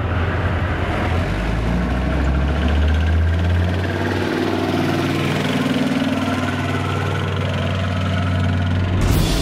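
Leopard tank engine idling nearby, a loud, steady, deep rumbling drone with vibrating low tones that holds evenly throughout.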